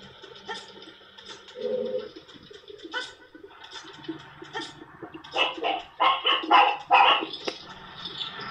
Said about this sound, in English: Is that your dog barking, Alex?